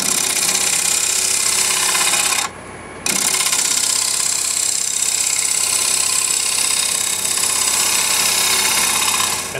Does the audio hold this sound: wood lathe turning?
yes